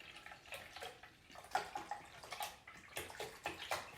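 Chicken broth poured into a measuring cup, a continuous splashing trickle broken by gurgles and small glugs that swell and fade unevenly. Close and fairly quiet, no talking.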